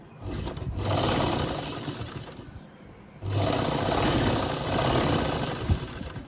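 A sewing machine stitches through stiff buckram in two steady, close motor runs separated by a short pause, with no voices.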